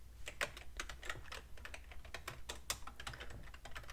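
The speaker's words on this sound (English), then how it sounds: "I'm going to actually type that into my computer." Quick, close-up tapping on a computer keyboard, a steady stream of soft clicking keystrokes with small irregular pauses over a faint low hum, no voices.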